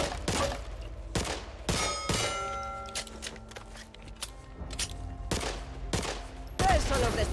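Repeated gunfire in the Back 4 Blood video game, with several loud shots fired at barrels in a firing range. Sharp bursts recur every second or so across the span over a steady background hum and tonal game sounds.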